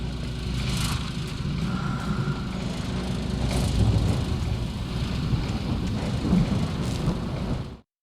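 Thunderstorm in Alan Wake Remastered, steady heavy rain with a low rumbling undertone of thunder, fairly loud and unbroken for about eight seconds before cutting off abruptly.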